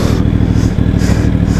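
X-Cape 1200 motorcycle engine revving close by, a loud, rough mid-pitched roar with rapid clattering pulses and short swells as the throttle is blipped.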